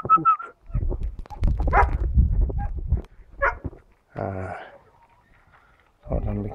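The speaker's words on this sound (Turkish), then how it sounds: "köpek sesimi duydum" A dog barks a few times in short bursts, set against people talking nearby.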